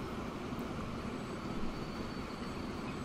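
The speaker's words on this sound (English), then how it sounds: "you're rolling past a freight train" A freight train in Transport Fever 2 rolls past as a steady, dense rumble with a faint high whine on top, holding even and close throughout.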